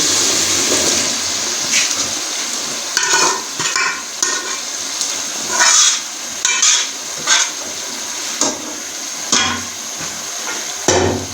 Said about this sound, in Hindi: तो अभी हम इसे मसाले में ऐड करेंगे, पतीले में डालेंगे सारे लोबिया को।